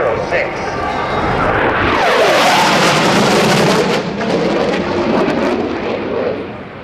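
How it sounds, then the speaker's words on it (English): A US Navy F/A-18C Hornet from Strike Fighter Squadron 106 makes a high-speed pass at the 2009 NAS Oceana airshow, its loud jet roar sweeping past with a falling pitch while an announcer speaks over it. "This is your United States Navy's FA-18 Hornet from Strike Fighter Squadron 106."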